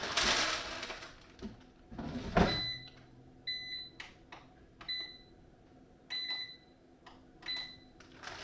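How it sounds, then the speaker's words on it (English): An air fryer is switched on with a series of short electronic beeps, some single and some doubled, spaced across the stretch after handling bumps and rustles, close by and fairly clear. "I'm gonna go ahead and get this air fryer started"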